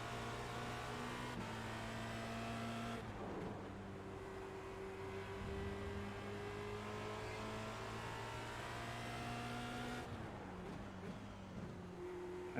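A Formula Renault 2.0 race car on cold tires at Hockenheimring in iRacing, its engine droning steadily near and loud, pitch shifting with gear changes and throttle lifts around the lap.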